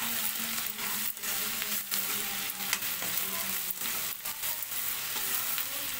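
Onions and green chillies fry in a hot pan, a dense steady sizzle crackling throughout, with sharp scraping stirs breaking through every second or so, close up and with no voices.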